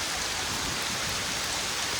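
Heavy rain pours down steadily in a dense, continuous hiss during a spell of nonstop rain over farmland, loud and close throughout with no voices.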